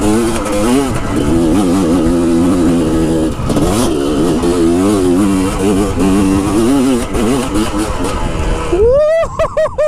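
A motorcycle engine close by revs hard through the gears, its pitch climbing and dropping with each shift, loud throughout, ending on a sharp high rev.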